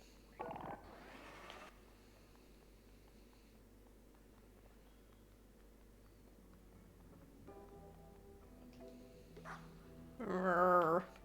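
A video game dog gives a yelping whimper at the start, then quiet ambient game sounds carry on until a louder burst of barking and whining near the end.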